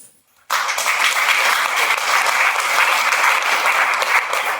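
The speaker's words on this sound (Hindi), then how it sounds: "ओके, तो हम चलते हैं सबसे पहले डिरेक्शन के लिए एक जोरदार तालियां डालें।" An audience at a marketing-plan presentation breaks into loud, sustained applause after a brief silence. The dense clapping carries on steadily to the end.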